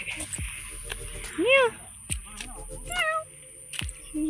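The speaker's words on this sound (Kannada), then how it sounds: "ನೋಡಿ ಬೆಕ್ಕು ಕೂಡ ಬರ್ತಿದೆ" A cat lets out two or three short, rising meows nearby, mixed with a person talking and footsteps on a quiet street.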